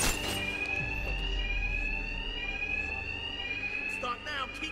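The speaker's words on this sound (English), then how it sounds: "Attacks will be covered by the noise of the alarm." A bank alarm in Batman Arkham Knight rings loud and continuous, a steady high electronic tone holding through the whole stretch, with low rumbling game noise and a few brief clatters underneath.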